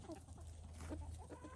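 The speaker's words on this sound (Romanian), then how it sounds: "găinuțele mele" Chickens cluck softly and intermittently in a backyard orchard, faint and somewhat distant over steady low background noise, with no one talking.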